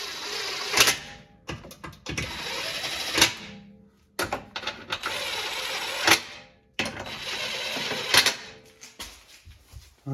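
A pneumatic impact gun tightens bolts on the rear differential of a 2021-2024 Toyota Sienna Hybrid, firing in three loud whirring rattling bursts of about two seconds each, separated by short pauses.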